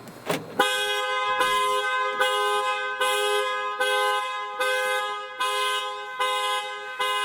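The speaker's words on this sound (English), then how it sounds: "be ready, the alarm will go off." A Lexus NX 300 car alarm blares loudly up close, repeating a harsh horn-like tone in a steady rhythm about every second after a brief initial chirp, set off by unlocking with the key.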